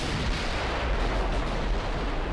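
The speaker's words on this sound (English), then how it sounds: "We'll get broadside and just shoot from here." Naval ship guns boom in a continuous, dense roar of heavy broadside fire during Ultimate Admiral: Dreadnoughts gameplay, loud and sustained throughout.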